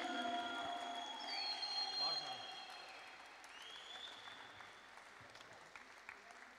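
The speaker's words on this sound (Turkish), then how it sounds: "Alkış, ıslık, uğultu, ne varsa alabilir miyim?" An arena crowd cheers and applauds at a sporting event, with whistles rising above a dense, distant roar that gradually fades.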